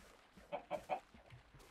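Chickens in the video game Minecraft give three quick clucks in a row, fairly faint, followed by softer clucks.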